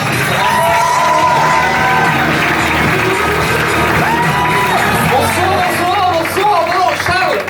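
A comedy show audience greets comedian Charles Deschamps with loud, sustained cheering, whoops and shouts over clapping, a dense crowd roar filling the whole stretch, with some voices rising above it.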